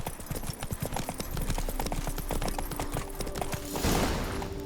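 Hooves of Roach, a horse in The Witcher 3, clip-clop in a steady trotting rhythm throughout, close and clear, with a brief louder rustle near the end.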